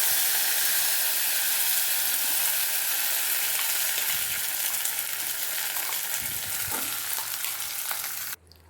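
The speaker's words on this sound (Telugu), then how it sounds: "ఇప్పుడు కొద్దిసేపు అట్లా వేపుకోవాలన్నమాట" Tomato chutney with curry leaves and red chili powder sizzling and frying in a pan, a steady dense crackle close by with occasional stirring scrapes, running continuously before cutting off abruptly at the end.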